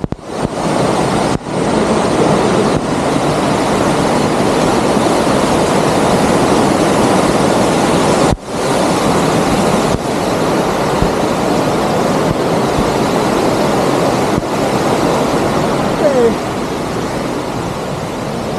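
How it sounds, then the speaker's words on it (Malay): Loud, steady roar of rushing water at Lata Makau waterfall in Kuala Kubu Bharu, a dense broadband wash that continues unbroken for the whole stretch, close and overwhelming. "Bunyi air terjun."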